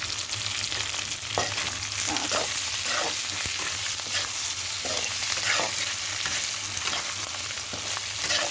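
Chicken liver frying in a pan gives a steady, close sizzle, broken by repeated scraping stirs spaced through the whole stretch, with no talk.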